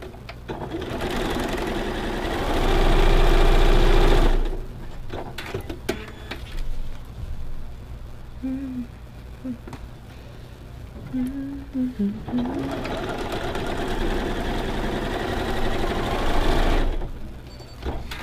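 A sewing machine stitches 3.5-inch quilt squares and side pieces in long, loud, steady whirring runs, pausing in between as fabric is handled and someone speaks quietly.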